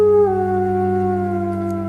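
Wolves howling, a single sustained tonal howl that drops slightly in pitch and holds steady, loud and clear.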